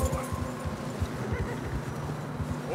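Horse hooves clip-clopping through fresh snow on a narrow trail in Red Dead Redemption 2, a steady run of close footfalls over a windy ambient bed.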